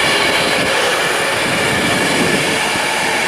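A Class 390 Pendolino electric train, unit 390-151, rushes past at close range on the West Coast Main Line at Warrington Bank Quay, a loud steady roar of wheels and rushing air lasting the whole moment.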